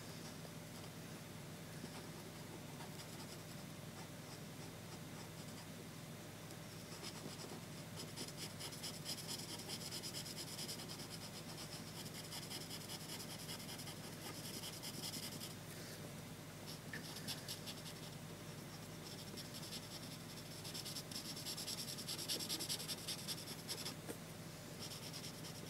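A Promarker alcohol marker, a Cool Grey 2 shade, colours denim on a jeans drawing with a soft, continuous scratchy rubbing of felt tip on paper, close and quiet, with a steady background hum.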